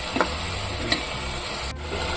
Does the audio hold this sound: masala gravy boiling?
yes